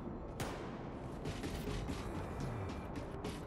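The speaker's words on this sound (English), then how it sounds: "Ow, he shot me." Enemy gunfire in Wolfenstein II rattles in scattered bursts and sharp cracks over a dense, busy battle din, moderately loud throughout.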